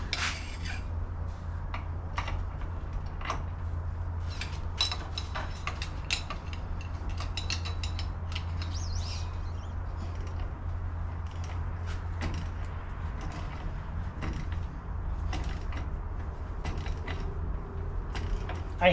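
Tightening a fitting while installing a power steering pump gives repeated creaks, metallic ticks and small clicks of tools and parts over a steady low hum, close and moderately quiet.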